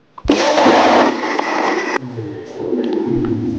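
A kitchen blender whirs loudly as it mixes lassi ingredients, starting abruptly, running steady for under two seconds, then dropping to a lower churn under light background noise.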